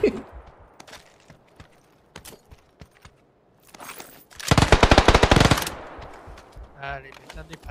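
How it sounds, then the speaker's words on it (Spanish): Gunfire in the video game PUBG: scattered single shots and footsteps give way to a loud, sustained burst of rapid automatic fire, with a player's voice briefly audible near the end. "me están disparando"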